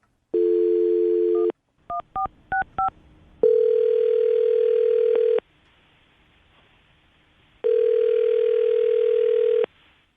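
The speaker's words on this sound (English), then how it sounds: "I'm going to dial the phone over right now" A telephone dial tone sounds, broken by a quick run of keypad beeps, then the steady tone returns twice more with short silences between.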